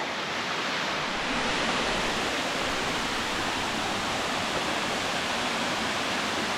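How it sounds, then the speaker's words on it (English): Hall Creek Falls roars as a steady, dense wash of falling water, loud and continuous throughout with no voices over it. "There's our falls."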